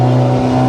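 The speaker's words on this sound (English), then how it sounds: "God damn, car, you're so loud." Loud car engine, a brand-new build by a friend, droning steadily up close with strong low harmonic tones and a rough, throaty edge while barely moving.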